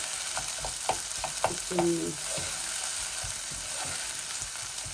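Ingredients for a bean mash, runner beans and English beans, fry and sizzle in a pan with a steady hiss, with a few stirring scrapes and clinks near the start.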